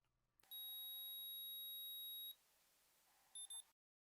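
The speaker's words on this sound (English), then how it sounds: "The control unit will then boot up and will let off a series of beeps to let you know that it has started up in offline mode." A Harvst Mains control unit starting up gives a long steady electronic beep, then after a pause two short beeps, clear and alone in a quiet room.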